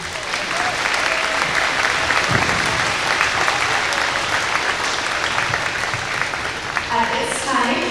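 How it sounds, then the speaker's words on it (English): Loud, sustained applause fills a school awards ceremony at an elementary school, steady clapping from many people throughout, with a voice starting to speak near the end. "Please join me in giving our amazing teachers and paraprofessionals a big round of applause."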